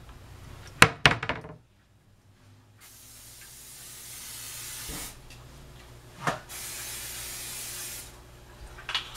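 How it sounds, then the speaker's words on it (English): A can of canola oil cooking spray hisses in one steady spray over fries, following a couple of sharp knocks, with a second short burst near the end. "Got to spray this to make sure the fries don't stick."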